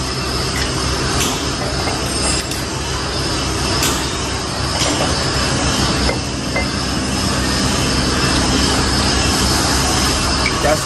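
A Toyota Hilux brake disc is skimmed on a lathe, giving a loud, unbroken metallic grinding drone with a faint high squeal throughout.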